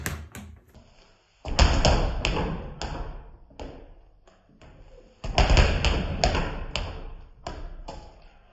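A speed bag is struck with an inward double elbow strike, fist then elbow, giving bursts of rapid close tapping and thudding rebounds separated by brief pauses, with no talking.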